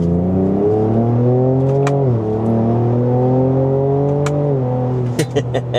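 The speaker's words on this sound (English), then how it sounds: "And the sound of the V6 too." Ford Ranger Raptor V6 engine revving loudly and close, rising through gears with quick upshifts and a downshift near the end, the 10-speed automatic in manual mode.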